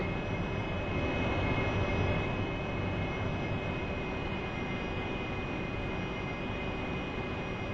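A Harrier jet in flight in DCS World, its engine a steady, loud broadband roar with a constant high whine, holding level throughout with no talk.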